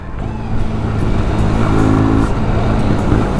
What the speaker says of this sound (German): der offene Luftfilter Gas hört sich so nice an